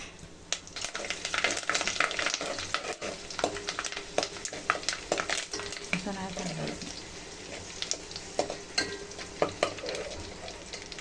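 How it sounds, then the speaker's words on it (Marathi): Cumin seeds, bay leaves and curry leaves sizzle and crackle in hot oil, a steady fry with bursts of popping and occasional stirring clatter, loud and close throughout. "आता आपण ह्यात जिरं आणि तेजपत्ता टाकूया"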